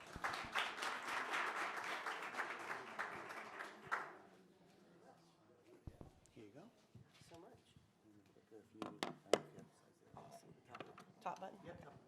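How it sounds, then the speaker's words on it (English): Audience at a digital marketing workshop claps in a short burst of applause that fades after a few seconds, followed by quieter room sounds, shuffling and a speaker talking. "So let's give her a round of applause, everybody."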